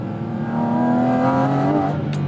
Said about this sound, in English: sport exhaust engaged.